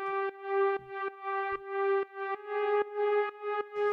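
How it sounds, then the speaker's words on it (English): A bright analog synth counter melody built from two saw waves through a low-pass filter plays a few short, evenly spaced repeated notes with a buzzy, harmonic-rich tone, loud and alone. "and the last of the synths, is this little counter melody,"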